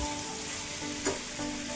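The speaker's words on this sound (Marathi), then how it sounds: "आपल्याला आता फुल गॅसवरती भात असं परतून घ्यायचा आहे छान" Egg fried rice being stir-fried on full gas, a steady hiss of frying with a single short clink of a spatula against the pan.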